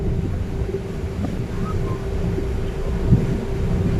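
Steady wind roars and buffets a microphone, a constant broadband rush over a low rumble, with no voices.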